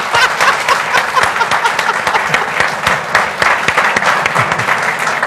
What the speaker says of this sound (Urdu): یہ تالیاں آپ نے اپنی مرضی سے بجائی ہیں